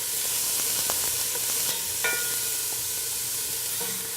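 Minced carrots and other vegetables sizzle and sauté in hot oil in a pan, a steady close frying hiss with occasional stirring clicks and no talking.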